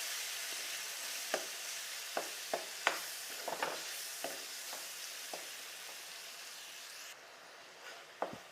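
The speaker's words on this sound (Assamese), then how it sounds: "বিলাহীখিনি অকণমান ভাজি লৈছোঁ" Tomatoes fry in a hot wok with a continuous soft sizzle, and sharp clicks and scrapes from stirring come through at irregular moments. The hiss eases slightly near the end.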